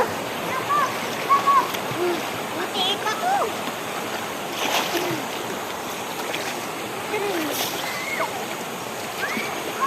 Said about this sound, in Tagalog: naliligo na sila